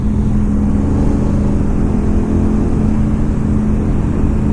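A Honda Africa Twin with an automatic, no-shift gearbox riding along, a loud, steady engine drone mixed with heavy wind rush, constant and close throughout.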